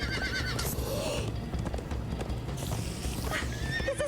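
Horses gallop in the Minecraft: Story Mode video game, with a steady clip-clop of hooves and a whinny rising over a constant, busy game soundscape.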